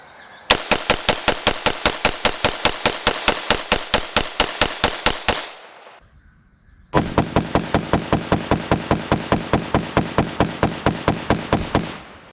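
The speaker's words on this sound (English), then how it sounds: "So now we are going back to the 223. We're going to put a bunch of rounds until this thing drops." Rifle firing .223 rounds into expired level IIIa soft armor vests, two long strings of rapid, evenly spaced loud shots separated by a short pause of about a second and a half.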